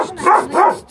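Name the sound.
small dog barking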